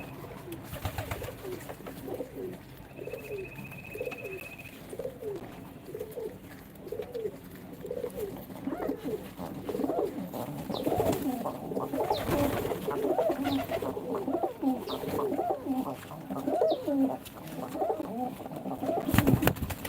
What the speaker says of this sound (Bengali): এখন দর্শক আমার কবুতরগুলাকে খাবার দিব